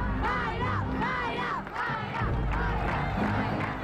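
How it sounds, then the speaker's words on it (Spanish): A studio audience at the Chilean TV competition show Calle 7 keeps up loud, continuous applause mixed with cheering and shouting, steady for about four seconds with no clear speech. "Volvemos con el aplauso donde nos quedábamos y la gente no para."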